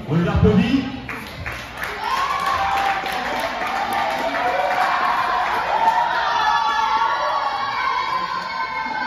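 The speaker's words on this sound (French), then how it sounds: "On les applaudit." Audience applause and cheering from a crowd after a football demonstration, broad clapping and voices sustained at a steady level, with a loud burst of shouting at the start and a voice speaking over it.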